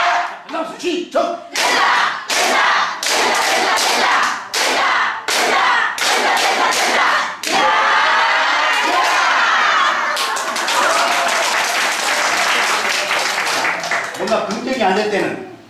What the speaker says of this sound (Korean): 된다 박수 시작